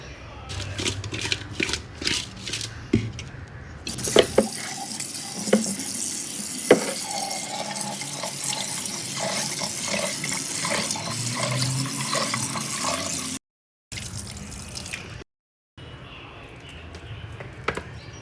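Small spicy karappodi fish are rinsed by hand under a running kitchen tap, with a steady splashing stream and clinking in a sink, briefly broken by short silent gaps near the end.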